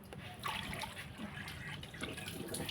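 Water runs and trickles from a tap while kaffir limes are rinsed at a sink, a steady close splashing with small bursts of dribbling, and no voices over it.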